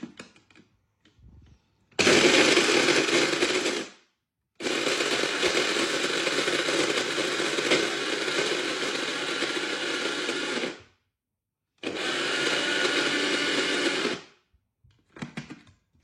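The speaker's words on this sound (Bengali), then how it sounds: "প্রথমে 5-7 সেকেন্ড আমি এরকম ব্লেন্ড করে নেওয়ার পরে হালকা চামচ দিয়ে একটু দেখে নিচ্ছি যে গুঁড়া হয়েছে কিনা" A kitchen blender grinds roasted spices into a magic masala blend in three loud bursts of whirring motor noise, the middle burst longest, separated by brief silences, with a small clatter at the end.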